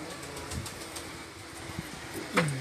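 Pigeons settling onto a rooftop in Sialkot, Pakistan: faint soft cooing and brief wing flutters over quiet outdoor background, with one sharper flapping burst near the end.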